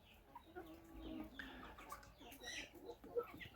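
Chickens of a large breed cluck and chatter softly in a short, close burst of uneven calls.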